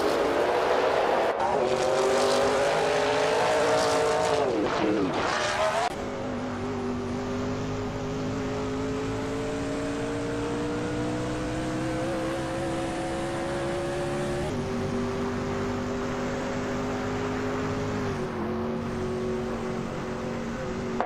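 Race cars in a racing video game roaring close together, engines whining and shifting pitch as they accelerate, with a brief burst of tire noise early on before a long sustained engine drone; a commentator's voice appears in places.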